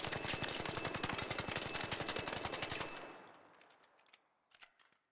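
The Stitcher gun in ARC Raiders, fitted with a horizontal grip and compensator, fires a rapid, evenly spaced automatic burst for about three seconds, then stops, leaving fading echoes and a few faint clicks.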